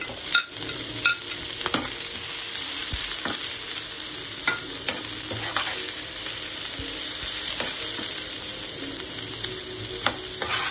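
Onions fry and sizzle in a pan for mutton pepper fry, a steady close hiss throughout with occasional stirring taps and scrapes and no talk.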